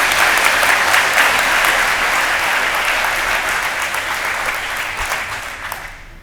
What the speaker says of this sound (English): please join me in a round of applause for our guest of honor, Thomas Hollinger.